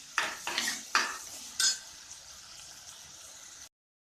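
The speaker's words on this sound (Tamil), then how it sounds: "தக்காளியை நல்லா வதங்கணும்." Spoon scraping and stirring in a pan of tomatoes and onions being sautéed for village-style country chicken gravy, a few distinct clanks early then quieter sizzling before abrupt silence.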